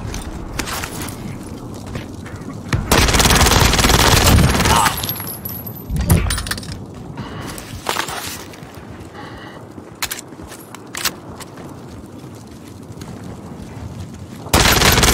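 Video game gunfire, loud bursts of shots and rapid automatic fire that come in bunches, with a sustained barrage near the middle and another burst at the end over background battle noise.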